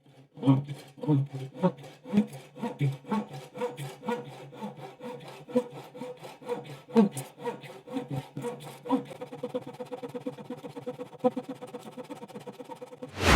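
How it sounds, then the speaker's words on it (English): A Butterfly Japanese pull saw cuts through wood in quick, rhythmic close strokes, each a raspy pull, steady then slightly faster toward the end. "if you just let the saw do the work, it'll work just fine, which is what I'm going to try to do right now"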